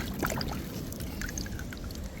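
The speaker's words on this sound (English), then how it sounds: "Rinsing in some water." A big seashell is rinsed in beach water after a nor'easter, giving soft continuous splashing and trickling that lasts throughout, fairly close and moderately quiet, with no one talking.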